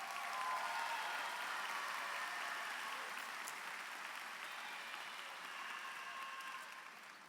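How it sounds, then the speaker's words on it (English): Graduates at a high school commencement ceremony receive sustained applause from a large crowd. The clapping is steady and loud throughout and tapers only slightly toward the end. "Let's give our graduates a big round of applause."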